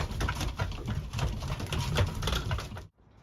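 Racing pigeons in a loft after a survival series race, a soft continuous murmur of cooing and low rumbling calls held close and steady, then cutting off abruptly near the end.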